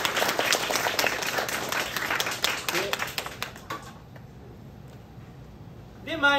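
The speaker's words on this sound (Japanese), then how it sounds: "拍手" Concert audience applause at a Japanese pop concert in Hiroshima, brisk clapping from the crowd that fades out after about four seconds into quiet room sound, with a burst of noise returning at the very end.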